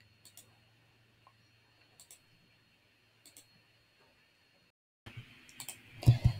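A computer mouse gives a few faint, sparse clicks, singly and in quick pairs, in a quiet room, then louder handling noise and rustling at the end.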